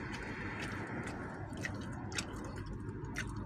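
Someone eats crunchy chicharon pork rinds up close, with crisp bites and steady chewing crackles over a low background hum.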